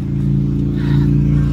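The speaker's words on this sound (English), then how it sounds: "That car going by." A car passes near a hostel in Hot Springs with a steady, fairly loud low engine rumble that swells slightly toward the end and then holds.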